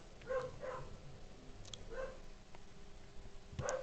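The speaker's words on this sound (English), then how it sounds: "Do apologise if you can hear the dog barking in the background" A dog barks faintly in the background indoors, about four or five short separate barks spread unevenly, distant and low behind a quiet room hum.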